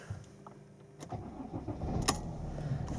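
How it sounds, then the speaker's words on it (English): A Mercedes E-Class W211 engine cranks and catches, the rumble rising and settling into a steady idle, fairly quiet and heard up close, with no one talking. "we'll turn the engine on and see what we get"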